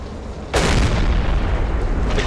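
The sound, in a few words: deck gun firing, from a video game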